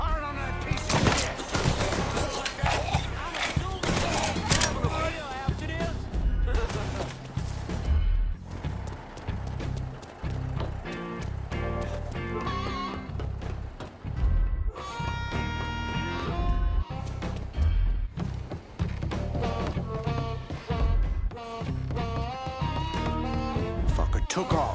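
Gunfire in the Mafia III video game, bursts of rapid shots and sharp cracks mixed with game sounds and a voice, loud and busy throughout.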